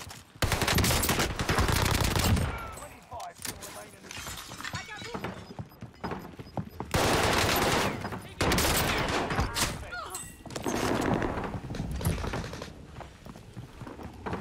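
Owen Gun submachine gun in Warzone, bursts of rapid automatic fire in several loud stretches with brief pauses between, mixed with footsteps and other battle noise, a player's voice talking over parts of it.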